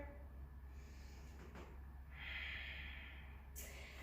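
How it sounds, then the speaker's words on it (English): A single long, deep breath taken during a dynamic yoga session, a soft broadband rush of air swelling in the middle of the clip over a quiet room hum, with no talking. "One more big breath here."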